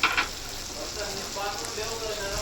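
Butter melting in a pan for sweet corn chaat, giving a steady soft sizzle that runs the whole time after a couple of brief louder clinks at the start.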